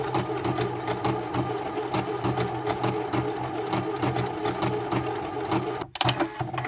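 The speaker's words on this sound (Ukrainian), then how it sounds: "Я зробила половину шва." A sewing machine stitches a seam through faux fur, running in a steady close whirring rattle for several seconds before stopping abruptly, followed by a brief restart.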